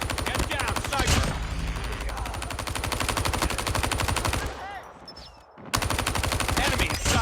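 Rapid sustained machine gun fire in the video game Golf Duty, a loud dense rattle of shots that drops out briefly before resuming.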